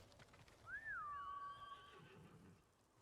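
A horse in the Ghost of Tsushima video game gives a single whinny that rises and then trails off, somewhat faint over a low background rumble.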